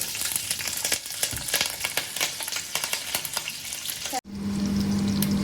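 Chillies sizzle in hot oil for a catla fish curry, a steady loud frying crackle with scattered pops; near the end the sizzle cuts off briefly and resumes as a smoother, even hiss.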